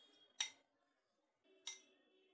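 A spoon clinks against a dish twice while amla pickle, made without oil and still fairly dry, is stirred together; the two short metallic taps come close by over near silence.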